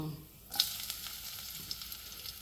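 Chana dal hitting hot oil in a pan, a sudden sharp sizzle that settles into steady frying crackle with scattered scraping stir clicks, close and fairly quiet.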